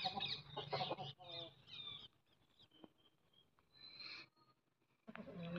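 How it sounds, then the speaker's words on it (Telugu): An Abras hen, ready to lay eggs, gives several soft clucks and short calls in quick bursts near the recording point, with quiet gaps between them. "ఇది అబ్రాస్ పెట్ అండి. ఇది కూడా గుడ్లు పెట్టడానికి రెడీగా ఉందండి."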